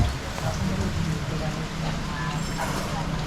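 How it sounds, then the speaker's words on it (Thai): Rain falling outdoors in Narathiwat, Thailand: a steady, dense hiss of rainfall, loud and continuous throughout, with no clear pauses. "บรรยากาศวันนี้ฝนตกนะครับ"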